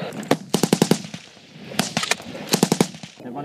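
Bursts of machine gun fire during a firefight with the Taliban, two rapid strings of sharp shots, moderately loud and slightly distant, separated by a short lull.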